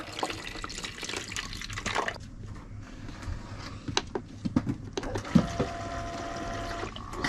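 Water poured into a EUHOMY nugget ice maker, a continuous splashing, trickling fill with scattered drips and small clicks, fairly close and steady with no talking.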